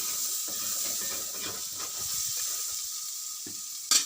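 Onions sauté in oil left from frying chicken, with a continuous close sizzle and hiss and a brief clatter near the end.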